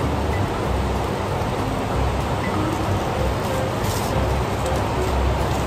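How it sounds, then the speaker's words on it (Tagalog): Heavy rain pours down in a dense, loud, continuous hiss, like a downpour drumming on a roof nearby, steady for several seconds with no talking. "Lakas po ng ulan."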